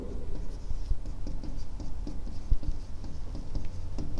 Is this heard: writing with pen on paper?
yes